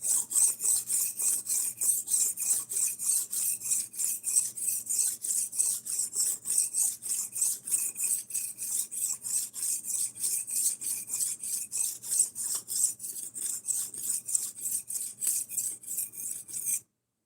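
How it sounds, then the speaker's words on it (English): A knife blade rubbed repeatedly against a brick gives a steady, gritty rasping scrape in quick even strokes, loud and close, running continuously for about seventeen seconds. "I wonder how long of rubbing a knife on a brick it's going to take for the whole knife blade to disappear."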